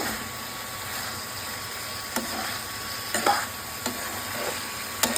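Masala sizzles and fries in a pan for a homemade fish curry, a steady hiss broken by a few occasional spatula scrapes and taps against the pan.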